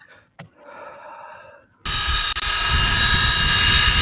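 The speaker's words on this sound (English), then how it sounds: "No doubt that fucking plane." An airplane engine roars overhead, bursting in suddenly and staying loud and steady after a brief quieter stretch with faint voices at the start.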